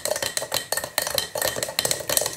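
Food from a British 24-hour MRE ration, type 5, being stirred in its container: rapid repeated scraping and clinking strokes of a utensil, close and fairly loud in quick bursts.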